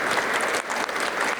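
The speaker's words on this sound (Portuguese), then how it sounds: "Primeiro, uma salva de palmas para o professor." Steady applause from an audience at a talk on playful learning with Carlos Seabra, dense clapping filling the whole moment, loud and close with no voices over it.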